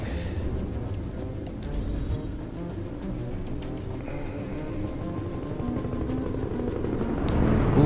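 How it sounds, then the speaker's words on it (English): A helicopter in the video game Detroit: Become Human, a steady low rotor rumble and chop throughout, swelling louder toward the end. "Ooh, chopper."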